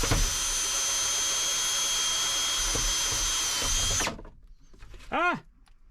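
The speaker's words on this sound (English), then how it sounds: "Try to drill that out" A power drill whines at high speed while boring a hole in a 1996 Ford F250 4x4 pickup, running steadily for about four seconds before stopping abruptly, followed by a short rising mechanical squeal and a faint clatter.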